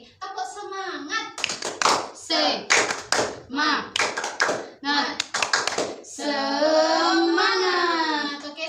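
A primary school class stands and performs the tepuk semangat clapping chant, with rhythmic bursts of hand claps in a patterned sequence, children chanting along, and a sustained sung or chanted ending.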